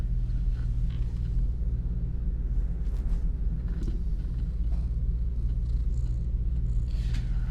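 A voice imitates a cat's purr up close, a steady low rumbling drone that continues unbroken and fairly loud throughout, with faint soft mouth noises on top.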